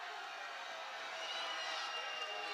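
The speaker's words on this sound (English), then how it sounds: "You can hear the Sikeston crowd, big crowd from Sikeston down in Kennett tonight" A big crowd of Sikeston fans fills a high school gym in Kennett during a basketball game, producing a faint, steady wash of murmuring and noise with no distinct claps or cheers.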